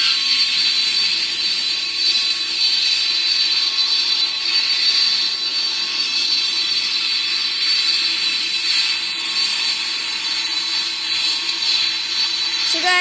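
Simulated Airbus A320neo jet engines roar steadily during landing in the PTFS flight game, a continuous loud high-pitched whine with a broad rushing hiss, unbroken for about thirteen seconds.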